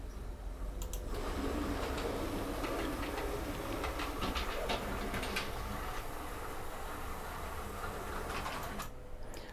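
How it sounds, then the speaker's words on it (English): Model railway train running on the Benson Valley layout, a steady continuous rumble with scattered clicks and brief ticking as it rolls over a track joint, fairly close, no talking. "the noise. I think you might have heard it then when it goes across the joint"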